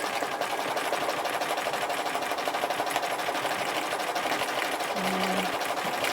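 A sewing machine runs steadily throughout, stitching loose thread-scribbling work, a continuous close mechanical hum and rapid needle clatter with no pauses.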